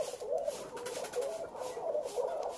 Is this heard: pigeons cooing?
yes